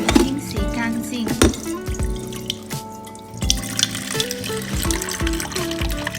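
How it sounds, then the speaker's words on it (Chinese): Running tap water splashes steadily into a sink while a yellow fish is rinsed clean for a sweet-and-sour pineapple fish recipe, with clunks and handling noises of the fish and bowl over the constant flow, close up. "我们先将鱼清洗干净"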